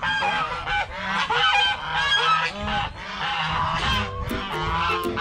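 Several domestic geese or ducks honk loudly and repeatedly at close range, a dense overlapping chorus of nasal calls that fills the whole stretch with no talking over it.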